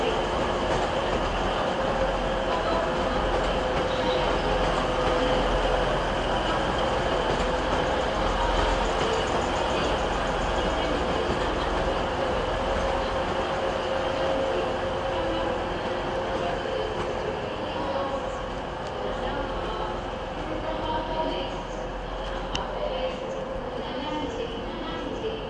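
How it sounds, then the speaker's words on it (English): A Class 185 diesel unit leaves Manchester Piccadilly toward Manchester Airport with a steady, close rumble of engine and wheels that tapers slightly toward the end. "That other 185 we saw earlier is now leaving, heading towards Manchester Airport."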